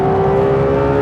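A Ferrari 812 Competizione with its 819bhp V12 screams at high revs on a race track, a loud, sustained and piercing engine wail heard up close.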